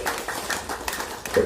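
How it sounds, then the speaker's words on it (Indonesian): Worshippers clap their hands together inside a Hindu temple, a short, close burst of uneven claps lasting only a moment. "tepuk tangan umat yang ada di sini ya"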